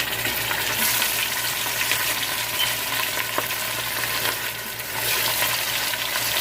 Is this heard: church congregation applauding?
no